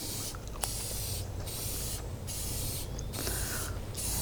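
Spray paint hisses onto a wooden farmhouse-style towel rack in several short, close bursts separated by brief pauses.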